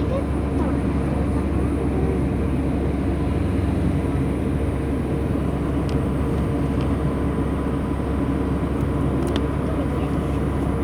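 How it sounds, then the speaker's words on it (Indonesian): An airplane at Sultan Thaha airport gives a steady, broadband roar that holds at an even loudness throughout, with faint voices in the background. "Itu pesawat ada lagi."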